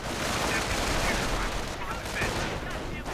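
Dense battle noise from a WWII strategy game, with gunfire and artillery as allied forces pound German Panzers, a steady loud barrage throughout, with some talk mixed in.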